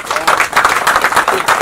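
Loud, close audience applause at a film trailer and music launch, a dense burst of many hands clapping in a short surge.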